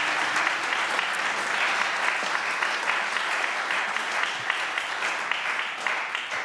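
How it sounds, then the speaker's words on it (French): Guests at a debate event receive a dense, continuous burst of audience applause, many hands clapping evenly at a fairly strong level from start to finish. "Applaudissez-les."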